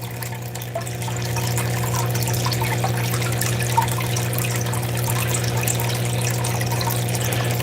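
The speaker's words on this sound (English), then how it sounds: "A lot of people like the sound of the water." Steady flow of running water from gold-panning equipment, a continuous close rushing wash with a low hum underneath, holding level throughout with no talking.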